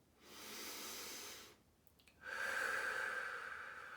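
A person breathing during acupressure for trigeminal neuralgia, two close, slow breaths: a soft airy inhale, a short pause, then a longer, stronger exhale with a faint whistling hiss, quiet and alone.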